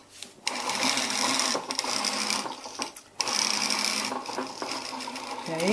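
A sewing machine stitching a trouser pocket runs in steady whirring bursts, briefly pausing twice before resuming, fairly close and even in loudness.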